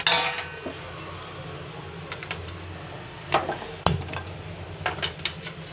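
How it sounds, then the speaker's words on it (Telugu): Clatter and clinks as tomato pieces drop into a hot pan, with a brief hiss at the start and a sharp knock midway. "ఇదే వేడి గిన్నెలోని మనం ఏం చేద్దామంటే టమాటా ముక్కలు వేసేసుకుందాం"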